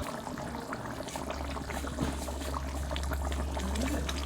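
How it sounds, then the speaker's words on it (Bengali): Mustard oil is poured into a simmering pot of mustard hilsa curry over a steady, close bubbling and sizzling that runs the whole time without a break. "এখন নামানোর আগে সামান্য একটু সর্ষের তেল।"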